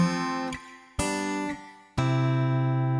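Three-voice arrangement of a simple chord progression: three sustained chords played one after another, each struck and left ringing, soft and clean with no talking.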